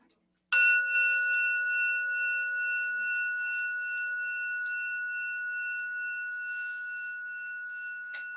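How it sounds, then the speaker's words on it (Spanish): A single meditation bell is struck once at a Buddhist sangha gathering, giving a bright, clear tone that rings on alone with a long, slowly fading sustain. "escuchar el sonido de esta campana"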